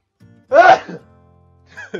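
A single sharp sneeze, close and loud, with a short breath before it and faint vocal sounds after.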